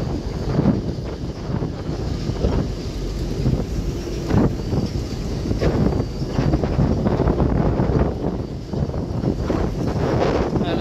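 A passenger launch ship travels from Sadarghat in Dhaka toward Barisal, heard as a steady engine and water rumble with heavy wind buffeting on the microphone throughout.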